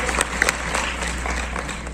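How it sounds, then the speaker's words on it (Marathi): An audience breaks into steady applause for Srushti, who made history at sixteen with a 127-hour dance feat; dense, even clapping fills the room for about two seconds with no voices over it. "तिच्यासाठी एकदा जोरदार टाळ्या झाल्या"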